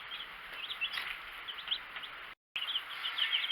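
Baby chicks in a brooder peep and cheep in a constant high chorus, with turkeys kept among the chickens; the chirping is busy and close, broken by a brief gap of silence.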